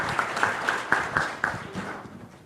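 Brief round of applause from a club audience at a weekly meeting, scattered hand claps fading out over a couple of seconds, moderately near and not very dense.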